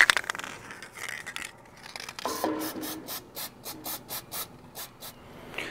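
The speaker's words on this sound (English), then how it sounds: "So I'll just have to spray all this up" Scraping and rubbing, then a series of short, evenly spaced hisses from an aerosol can spraying in quick bursts, close by, during repair work on an Ifor Williams trailer.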